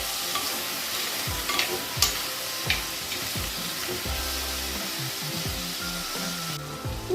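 Drumstick pieces are stirred with salt in a frying pan, a steady sizzle and fry under repeated scraping stirs, close and fairly loud.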